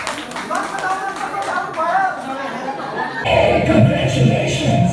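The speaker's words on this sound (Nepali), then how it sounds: "ओके एउटा जोरदार ताली हाम्रो सम्पूर्ण ग्रुपको लागि।" At an award ceremony an audience breaks into applause for a group, a crowd of clapping hands that swells suddenly and stays strong, with people talking over it.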